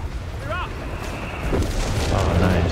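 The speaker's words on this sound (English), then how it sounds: "Oh, wait, you're bombing." Heavy bombing explosions in the WWII strategy game Company of Heroes 3, a rising rumble of deep booms and blasts that swells louder toward the end, with a brief whistling tone early on and voices talking over it.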